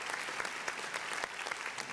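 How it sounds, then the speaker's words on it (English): An audience at the International Halal Dialogue 2022 conference gives applause after a speaker's presentation. Steady, moderately quiet clapping from a group lasts about two seconds. "Big applause to Pak Sanchoyo."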